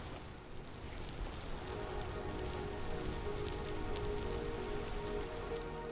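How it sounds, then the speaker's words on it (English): Steady rain pours down in the Vintage Story game world, a dense, even hiss of countless drops that holds constant from start to finish, with no voices over it. "Oh, well, unfortunately, it's still raining."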